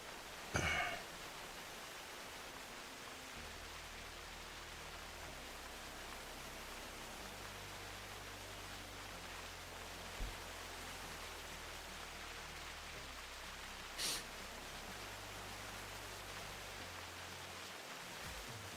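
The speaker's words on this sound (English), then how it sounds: "Good old rain." Steady rain in the hunting game theHunter Classic, a continuous hiss of falling water, with a low droning tone underneath and a couple of brief sharp sounds.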